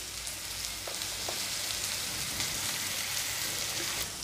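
Onions fry in a pan with half a spoon of salt, giving a steady, even sizzling hiss that runs without a break, close by and with no talk.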